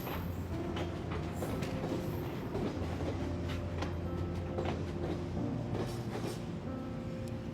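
A train running on the rails, with a steady rumbling roll, rhythmic clickety-clack of wheels and faint tonal hum, heard alone at moderate distance without speech.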